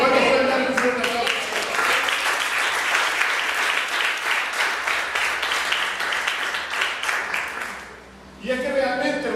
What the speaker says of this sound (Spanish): ¿Cuántos pueden dar un fuerte aplauso?